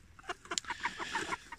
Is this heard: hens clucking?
yes